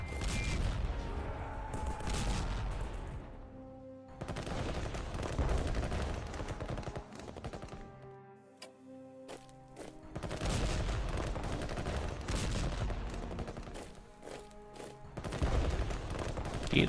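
Loud bursts of rapid automatic gunfire come in long volleys, broken by brief lulls, with heavy booming impacts and no talking, in the World War I strategy video game Strategic Command WW1.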